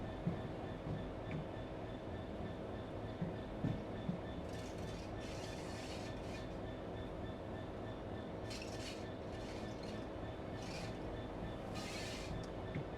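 A DRS Class 66 diesel locomotive runs in Train Sim World 4 on the Edinburgh to Glasgow route, a continuous low engine rumble and wheel drone with occasional brief hissing bursts over the top.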